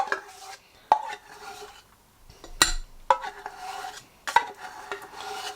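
Spoon scraping thick homemade fudge out of a pot, a handful of sharp metallic scrapes and knocks spaced irregularly between quieter smeary strokes, close and alone.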